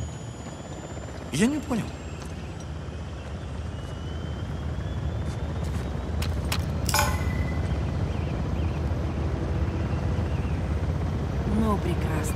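A helicopter lifts off in Uncharted: The Lost Legacy, a steady rotor and engine roar that builds slightly over time, with brief speech and a few game effects on top.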